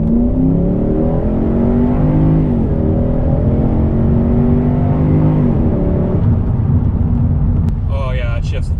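A Toyota/Lexus with an upgraded valve-body transmission kicks down, and the engine revs up in a loud, rising drone that dips and climbs again through the shifts, with a voice talking over the cabin noise near the end.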